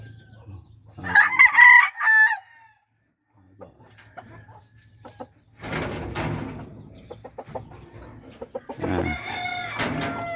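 Mixed-breed chickens crow loudly in a rooster call near the start, followed by clucking and scattered squawks from several birds at close range.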